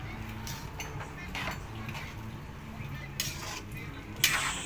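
Food being stirred in a cooking pot as vinegar goes in, with spoon scraping and clinking against the pot over a steady bubbling simmer, a few sharper metal knocks standing out, near and continuous.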